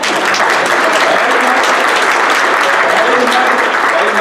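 A church congregation at a Sunday service bursts into loud, sustained clapping, a thick, even roar of hands filling the whole moment without letting up.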